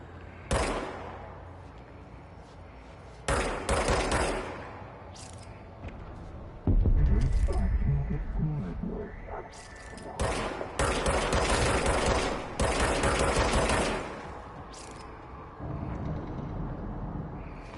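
Service weapon firing in the game Control, several bursts of rapid gunfire separated by quieter gaps, loud and close with mechanical clatter between volleys.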